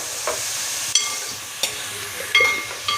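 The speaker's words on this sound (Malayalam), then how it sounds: "എല്ലാം ഒന്ന് ഇളക്കി കൊടുക്കണം" Shallots and dried fish fry in a pan under a soft, steady sizzle, with four or five distinct scraping strokes of a spoon stirring them at irregular intervals, close and fairly clear, no talk.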